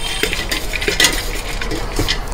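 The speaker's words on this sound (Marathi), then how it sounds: "आपण ही पूर्ण भेळ मिक्स करून घ्यायची" Bhel, a puffed rice snack, is mixed by hand in a metal vessel. It gives a dry, crisp rustling and scraping with scattered light clinks, steady and close, with no talking.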